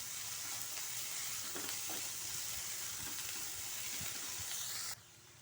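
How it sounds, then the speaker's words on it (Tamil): Vegetables for fried rice sauté in a pan on high flame, giving a steady soft sizzling hiss with faint scrapes and stirring knocks throughout, before the sound suddenly drops away near the end. "இது ஒரு 2 நிமிஷம் அப்படி ஹை ஃப்ளேம்லேயே வதங்கட்டும்"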